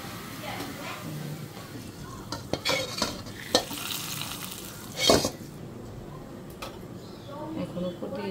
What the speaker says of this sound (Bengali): পেঁয়াজ আর রসুনটা বাদামি করে ভাজা হয়ে গেছে। এখন আমি ডালে দিয়ে দিব।